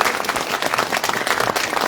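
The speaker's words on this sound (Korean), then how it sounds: "서로에게 참석하신 모든 분들께 다시 한번 뜨거운 박수 부탁드립니다." Warm applause from the audience at a Korean education talk event, many hands clapping briskly and loudly in a dense, continuous burst.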